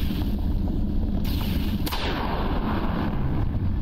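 Gunfire aimed at the player in the alien survival video game Humanity Lost, heavy booming shots blurring into a dense, loud, continuous barrage with no clear gaps and no talking.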